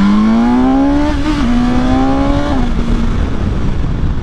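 A BMW S1000XR sport touring motorcycle engine pulls hard under acceleration, its loud, close whine climbing steadily in pitch, dipping briefly at a gear change, then giving way to rushing wind and road roar.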